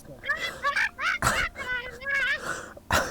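A voice imitates a bird, giving a run of warbling, honking, fowl-like calls in short bursts, loud and close, with breathy noise between them.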